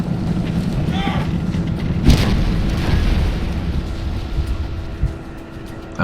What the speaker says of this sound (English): So his onagers are about to fire.